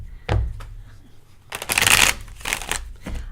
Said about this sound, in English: these cards are way past the sweet spot of shuffling